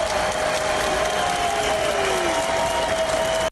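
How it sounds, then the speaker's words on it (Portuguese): A crowd at a Catholic Mass applauds Bolsonaro as he is announced, a steady and even wash of clapping from many people that carries on throughout, with a faint tonal hum underneath. "Ao ser anunciado, foi aplaudido, com poucas vaias."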